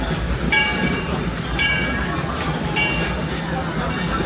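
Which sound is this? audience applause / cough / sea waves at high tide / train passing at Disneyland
train passing at Disneyland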